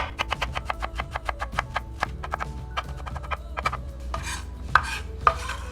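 Rapid, crisp knife strikes on a cutting board as onions are finely chopped for a vegan spanakopita, a quick run of close, evenly spaced taps that slows into scattered heavier cuts.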